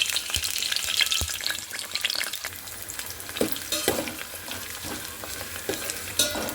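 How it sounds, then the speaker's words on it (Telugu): Garlic, green chillies and onion go into hot oil and crackle and spit densely, with a close, busy sizzle and scattered clicks of a spoon or ladle stirring them. "ఆయిల్ అయితే మసులుతుంది కదా ఇప్పుడు వెల్లుల్లిపాయలు పచ్చిమిర్చి ఉల్లిపాయ మూడు వేసేస్తున్నాను"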